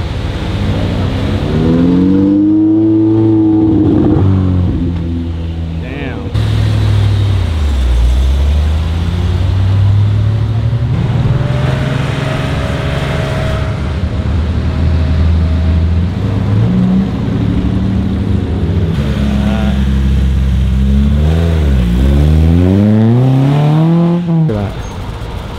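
Cars drive past on a street during Carmel Car Week, engines loud and close, revving and rising and falling in pitch as they accelerate and pass one after another, with some voices in the background.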